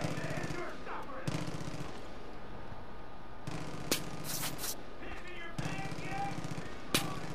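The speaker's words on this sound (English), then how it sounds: "Why else are they shooting at random walls? They're shooting at something." Enemy gunfire in the shooter game Far Cry 5, repeated bursts of automatic shots at moderate distance, mixed with quieter game ambience and no talking.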